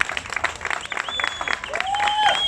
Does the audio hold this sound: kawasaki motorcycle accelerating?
no